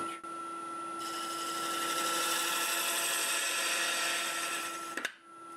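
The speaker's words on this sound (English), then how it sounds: "That whining sound that you hear was, I still had my lathe in low range, so it was spinning a lot faster than it needed." Wood lathe running in low range and spinning far too fast while a half-inch bowl gouge shapes a twisted tangent stave turning, giving a loud, steady whine with strong tonal hums that stops abruptly near the end.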